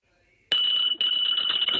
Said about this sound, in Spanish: Pues yo creo que es el despertador